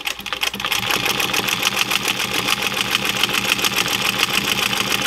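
A Singer 111W101 industrial sewing machine runs steadily and loudly for the whole stretch, its needle mechanism setting up a fast, even, mechanical chatter with no voices.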